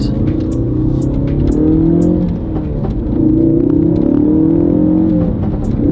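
A Ford Focus RS/ST fitted with an aftermarket intake downshifts while driving, its engine note rising and falling in loud close rumbling revs with gear changes and no talk.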